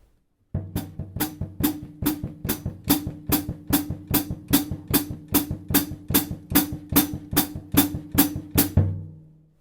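Soft, even bass drum thumps at a steady medium tempo, about two per second, played alone with a light, muted touch.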